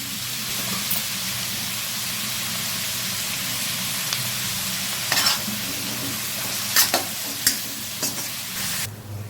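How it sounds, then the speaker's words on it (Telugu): Sliced onions fry in hot oil in a pan, browning for an egg curry, with a steady close sizzle throughout and occasional scraping clicks of a spoon stirring through them toward the end. "మన ఉల్లిపాయ అయితే వేగింది, కాస్త బ్రౌన్ కలర్ వచ్చింది కదా."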